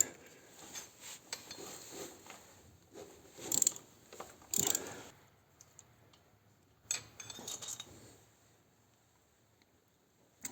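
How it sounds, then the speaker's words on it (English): Ratchet wrench working a 1/2 inch bolt on a Harley-Davidson Touring cylinder base cover, giving scattered close clicking ratchet bursts and metallic handling noises with quiet gaps between. "Next thing is to take out this bolt here"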